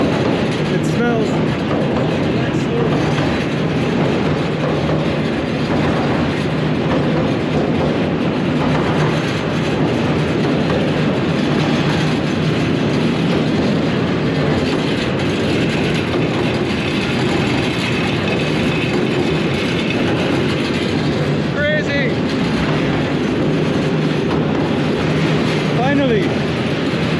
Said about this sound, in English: That was a very long train.